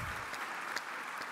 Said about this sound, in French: merci Laurence, on peut l'applaudir